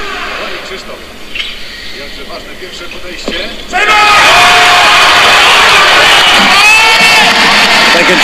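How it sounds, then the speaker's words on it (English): A home crowd at the 2013 World Weightlifting Championships bursts into a deafening roar of cheers, whoops and yells as a 77 kg lifter completes a snatch, the noise jumping suddenly from a murmuring arena to a sustained racket. "home support, making an absolute racket, lifting the roof off"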